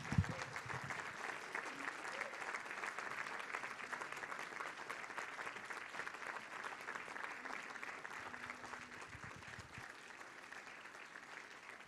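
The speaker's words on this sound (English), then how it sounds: "Let's please give them a round of applause" Sustained audience applause at the Freedom House Museum grand opening service honoring Northern Virginia Urban League board members, a steady dense clatter of many hands that fades slightly toward the end.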